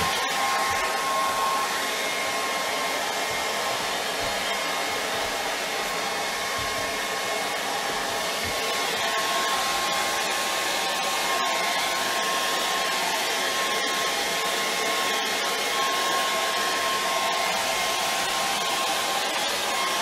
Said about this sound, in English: if you want to stop anything running, just air dry it.